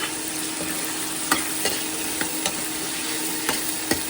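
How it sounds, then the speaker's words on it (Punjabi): Onions fry in hot oil with a constant crackling sizzle close by, punctuated by several sharp spatula taps and scrapes against the pan. "ਚਲੋ ਆਪਾਂ ਦੋ ਮਿੰਟ ਪਹਿਲਾਂ ਇਸ ਪਿਆਜ਼ ਭੁੰਨਾਂਗੇ"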